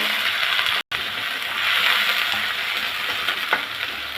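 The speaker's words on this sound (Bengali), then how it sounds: "এখন পেঁয়াজটার সাথে একটু ভেজে নেব হালকা করে" Onion, garlic and chili paste frying in a pan with a splash of water, giving a loud, steady hissing sizzle that briefly cuts out, then resumes with faint stirring clicks, up close and without speech.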